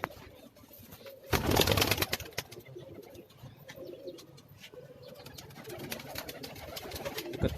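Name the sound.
pigeons cooing on a rooftop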